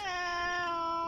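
A cat that hunts pigeons gives one sustained, drawn-out meow with a steady, strong tone, close and loud, with no talking over it.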